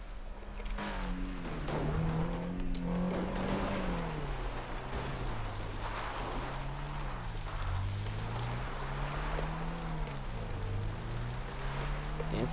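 Mercedes-Benz 300 SL Gullwing engine in GTA Online held near 5,000 RPM, a loud steady drone with a wavering pitch that rises and dips continuously, close and unbroken throughout.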